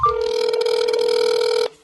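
An outgoing phone call to a Syracuse number gives a single steady electronic ringback tone, loud and close, lasting about a second and a half before cutting off.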